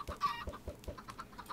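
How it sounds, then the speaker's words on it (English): Chickens in the video game Minecraft cluck in a quick, uneven series of short clucks and squawks, soft and fairly close, with no talking. "There's a lot of chickens."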